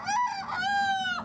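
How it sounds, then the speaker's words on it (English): A game rooster crows once, a loud, close, drawn-out call with a rising start and a long sustained tone, heard alone. "You want to buy a bunch of game chickens?"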